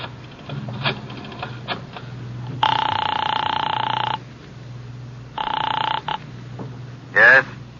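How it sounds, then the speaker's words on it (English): An old-time radio drama sound effect of a telephone ringing after a call is dialed to a residence: two long electric rings, each about one and a half seconds, separated by a pause, with a short sharp click near the end. "I dialed the Kelsey residence"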